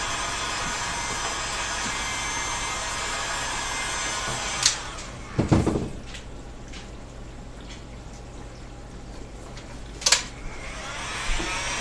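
A heat gun or hair-dryer-style blower runs as a continuous steady whoosh while warming a PVC bow limb, with a few sharp knocks and clicks of handling around the middle and near the end.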